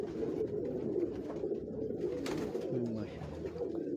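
Salare pigeons, an old breed kept in Kasur, coo in low, warbling rolls close by over a steady background hum, with faint voices in the room.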